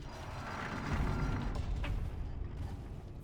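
A gate mechanism opening in a horror video game set in a parking garage: a sustained low mechanical grinding and creaking with a few brief clanks, moderately loud and steady, with no speech.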